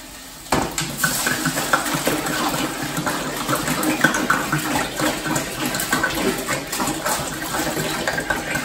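Water pours steadily into a large soup pot for a Mexican seven-seas seafood broth, a continuous splashing rush with faint clinks of the pot, loud and close with no talk.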